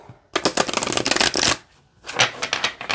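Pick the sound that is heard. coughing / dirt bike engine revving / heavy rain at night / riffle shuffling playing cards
riffle shuffling playing cards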